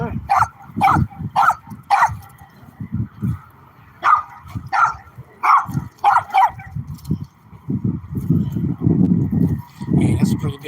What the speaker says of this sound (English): Damn, that's a big ass dog right there.